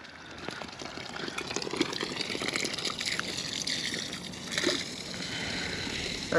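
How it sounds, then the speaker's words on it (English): Water from a small $100 float pump pours steadily back into a pond, a continuous close splashing trickle with brief louder gushes and no talk. "we're just putting the water back in the pond"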